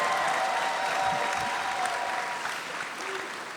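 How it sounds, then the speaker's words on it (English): A live podcast audience applauds, a dense, sustained wash of clapping that holds steady and tapers slightly toward the end, with faint voices underneath. "More claps, Adam."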